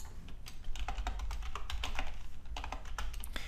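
Typing on a computer keyboard into a terminal, a close run of quick irregular key clicks with brief pauses between bursts.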